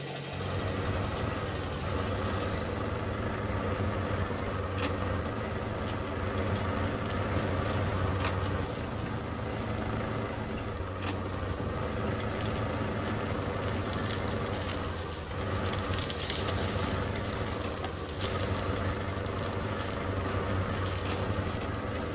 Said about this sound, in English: Handbrake release.